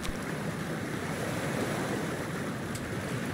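In the video game Cyberpunk 2077, a steady, loud rush of water and surf-like noise fills a few seconds as a character wades into cold water, with no talking.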